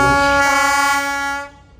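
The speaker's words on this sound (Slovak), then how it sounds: "Motorový rušeň Hektor nám krásne zatrúbil." A Hektor diesel locomotive sounds one long, loud, steady horn blast near the listener at a historic locomotive show in Bratislava, and the note fades away at the end.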